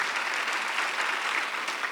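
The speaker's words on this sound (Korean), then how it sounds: "빨리 박수를 하나 더 해주세요." Church congregation clapping together during a Sunday worship service, a dense, even burst of applause sustained throughout, fairly close and with no voices over it.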